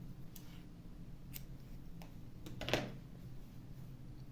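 Scissors snip crochet yarn. A few faint, quick clicks come close together, and one slightly sharper cut stands out against a quiet, hissy background.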